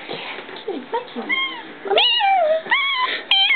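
A cat meows several times, drawn-out and plaintive, close by, with a few voices talking in the background.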